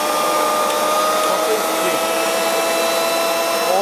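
An Orpat blender with its jar locked in place runs at high speed, giving a steady, loud motor whine that holds evenly from start to finish.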